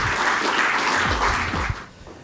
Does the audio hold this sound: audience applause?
yes